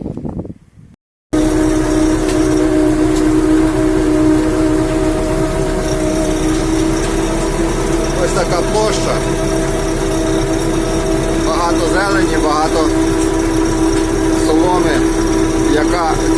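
A tractor pulls a homemade seeding rig, a cultivator combined with a seeder, sowing soybeans in a field. A steady, loud engine drone with mechanical rattle runs continuously after a brief quiet start.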